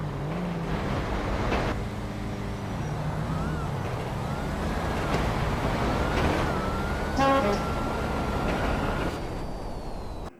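A blue Hellcat and a Cadillac drag racing in GTA, engines whining and climbing through gears with shifting pitch, a sustained mechanical roar at moderate distance with brief rattling bursts.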